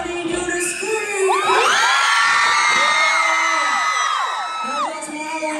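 A concert crowd screams and cheers loudly and continuously, high-pitched shrieks and whoops layered together in a sustained roar that swells and holds before easing slightly near the end.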